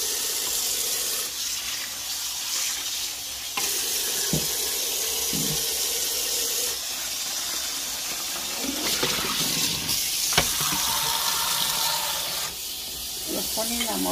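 Steady running water hisses and splashes continuously, with occasional soft knocks and clatter as chiles are rinsed under the stream.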